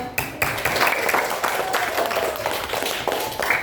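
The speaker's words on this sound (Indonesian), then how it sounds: "Tepuk tangan dulu." Participants at a teacher training session in Indonesia clap together in a brief, fairly loud burst of applause with scattered individual claps and faint background noise.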